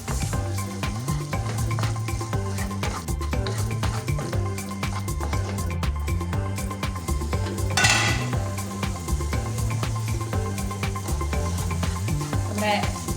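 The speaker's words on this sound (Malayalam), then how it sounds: "ഇതെല്ലാം ഇട്ട് നമുക്ക് നന്നായി മിക്സ് ആക്കി എടുക്കാം കേട്ടോ" A spoon clinks and scrapes rhythmically against a metal pot while chicken masala and pepper are stirred into a paste for sausage biryani, with a steady, close-up clatter.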